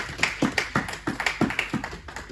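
A church congregation at a Sunday service claps in a steady, fairly quick rhythm of sharp, moderately loud claps, with no talk over it.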